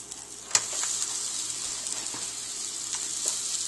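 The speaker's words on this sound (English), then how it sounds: "You can hear it sizzling there." A sandwich sizzles on a George Foreman GR0742S panini press grill, a steady close-up frying hiss with a sharp click near the start and a few faint pops and crackles.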